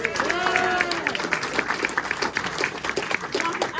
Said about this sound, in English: Let's hear it for our boss, Mark Lemmo, folks.